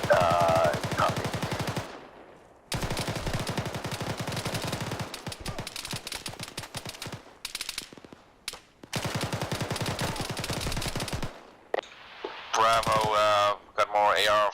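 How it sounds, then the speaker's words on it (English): Automatic rifle bursts from Arma 3 combat rattle in long dense stretches, loud and rapid, with brief lulls between volleys and radio chatter in a squad training setting. "got more AR fire from the left side of the compound"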